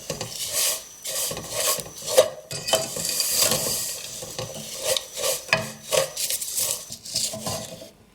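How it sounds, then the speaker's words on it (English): Vermicelli being toasted in ghee with spices and nuts and stirred in a pan, giving a close, raspy scraping in repeated rhythmic strokes over a faint sizzle; no one speaks. "So I've been toasting the vermicelli for about 3 minutes."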